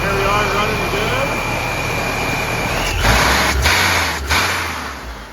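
A supercharged Honda S2000 engine idles steadily nearby with a constant whirring hum, shifting into a deeper rumble partway through, while someone talks over it.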